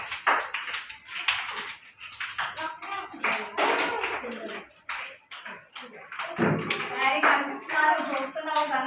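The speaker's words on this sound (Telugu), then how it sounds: "గట్టిగా కొట్టండి క్లాప్స్." Young anganwadi children clap their hands in a lively, uneven patter that goes on throughout, with an adult voice talking over the claps.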